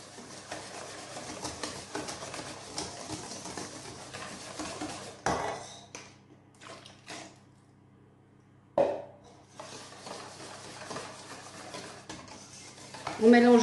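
Milk whisked into a batter for an apple flan, rapid rhythmic scraping of a whisk against a bowl that breaks off into quiet pauses and a few knocks, with no talking.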